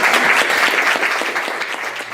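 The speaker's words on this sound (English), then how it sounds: "let's give them a big round of applause" Dense applause from a room full of people at a climate panel, loud and sustained, tapering slightly toward the end with no voices over it.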